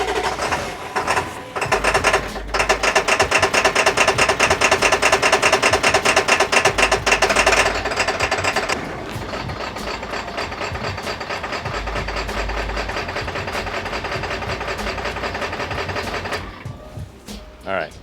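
A Ford 7.3 Powerstroke diesel engine cranks and runs with a fast mechanical clatter and whir, loud and steady, then dropping to a lower idle-like drone before cutting out, with occasional speech.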